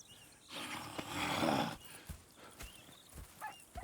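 A horse in Red Dead Redemption 2 snorts and whinnies over a loud burst of noise, followed by scattered hoof clops and light thuds.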